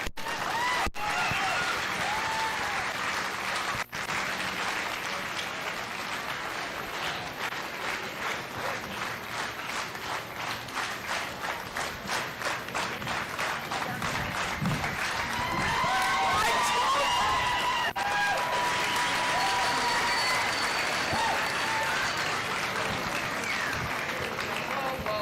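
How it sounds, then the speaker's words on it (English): A fair crowd at a junior livestock showcase claps in steady unison for a long stretch, the rhythmic beat swelling and loosening into scattered applause and cheering near the end. "I want everybody to get their hands together, and we're going to clap while I pick the man reserve"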